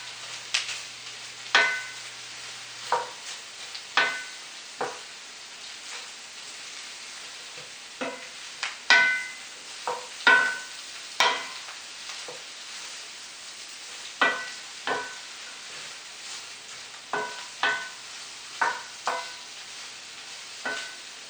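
Cabbage and other vegetables sauté in a pan for haluski with a soft continuous sizzle, punctuated by many irregular clacks of a spatula scraping and tossing, close by, with no voices.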